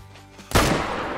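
A single gunshot fired while hunting in the video game Call of the Wild, a sharp loud blast followed by a long rolling echo that fades out.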